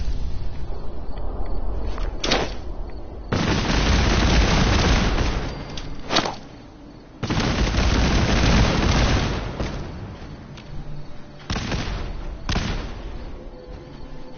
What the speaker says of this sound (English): Grenade airstrike.